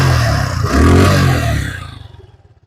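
A 2024 Suzuki Gixxer Monotone motorcycle, a used bike, revs up sharply close by, holds the rise briefly, then drops back to a low, pulsing idle that fades away.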